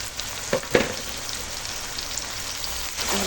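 Pieces of goat meat dropped into a hot pan with ginger-garlic paste, giving a couple of soft thuds followed by a steady, fairly quiet rain-like sizzle close by, with no talking.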